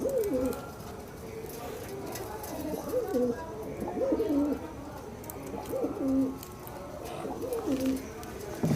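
A yellow-eyed pet pigeon of the til chocha kind coos close by, giving a series of soft, throaty, rolling calls every second or so.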